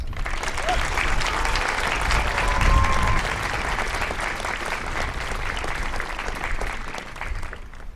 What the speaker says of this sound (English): Please give a round of applause to Veronica Burkhardt.